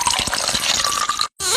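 Water splashes and pours steadily over a child being bathed, a continuous close wet rush that cuts off briefly and then resumes.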